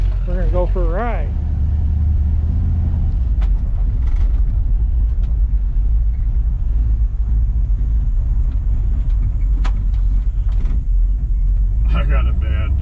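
A 1959 Chevrolet El Camino drives along with a steady low engine rumble and road drone filling the cabin, a voice speaking briefly at the start over the noise.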